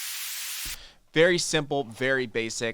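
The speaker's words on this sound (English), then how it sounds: "Right now, we have erosion set with white noise." A burst of hissing white noise layered in a Serum synth patch sounds for under a second, steady and fairly loud, then cuts off before a person starts talking.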